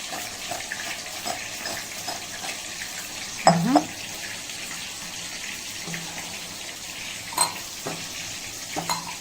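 Fried potato fries are tossed with salt and chili powder, giving a steady low rustling scrape with a few sharper clattering knocks scattered through it.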